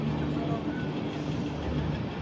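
Passenger train slowing into Puttur station and heading for platform 3, a steady low rumble of wheels and carriage noise, even and continuous without any talk.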